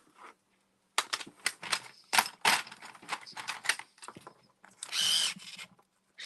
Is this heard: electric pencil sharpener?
yes